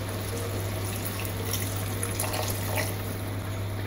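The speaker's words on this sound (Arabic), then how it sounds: "غادي نضيف واحد شويه ديال الماء" Water poured into a pot holding chicken, rice and diced green sweet pepper, a soft steady trickle under a constant low hum, faint and without talk.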